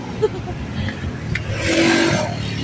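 A car goes by on a sunny street in General Trias, Cavite, its engine and tyre noise rising and swelling toward the end, while people chatter nearby.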